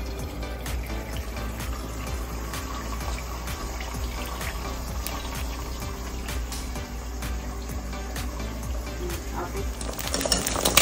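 Beaten eggs are poured into hot oil in a pan for egg fried rice, giving a steady, close hiss and sizzle that holds evenly throughout and swells slightly at the very end.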